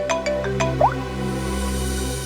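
A bright electronic ringtone plays a short run of chiming notes with a quick rising blip, close and clear over a steady tonal hum.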